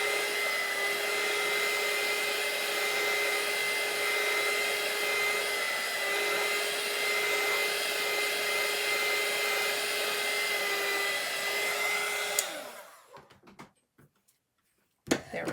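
A hair dryer blows steadily at close range for about twelve seconds while drying chalk paint on a t-shirt, then winds down and stops, leaving a few faint handling clicks.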